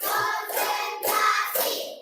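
A class claps hands together in counted rhythm, four distinct claps spaced about half a second apart, fairly soft with a slight room echo.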